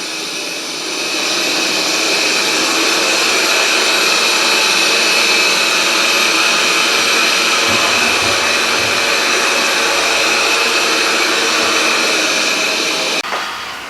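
A self-emptying robot vacuum works across a rug with a loud, steady whirring hum and high whine, close by, running unbroken for several seconds before cutting off abruptly at the end.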